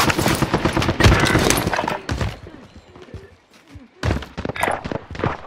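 Gunfire in the video game Warzone: loud bursts of rapid shots and fusillades in the first two seconds, a quieter lull, then another run of sharp, close shots near the end.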